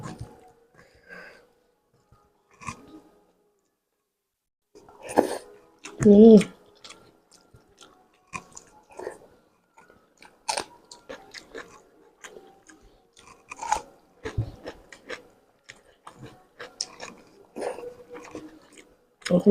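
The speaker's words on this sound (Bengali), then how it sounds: "এখন আমি পেঁয়াজ পাতা ভাজি খাচ্ছি ভাত দিয়ে" Close chewing and crunching while eating stir-fried onion greens with rice, soft wet bites in irregular bursts with a louder crunch near the start, quiet pauses between.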